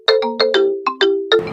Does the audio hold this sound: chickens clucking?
no